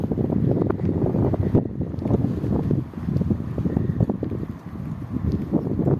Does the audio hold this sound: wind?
yes